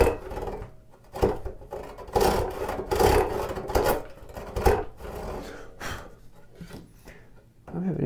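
Hand saw with freshly sharpened teeth resawing a wooden board for the bottom of a tool tote, rasping back-and-forth strokes in an uneven rhythm, close by, with a person talking between strokes.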